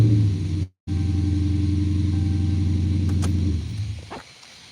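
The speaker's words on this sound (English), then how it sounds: "let me start my truck real quick because I'm charging stuff" A parked truck's engine is started: a brief silence, then the motor catches and settles into a loud, steady idle rumble that fades somewhat near the end, heard close by with no talking.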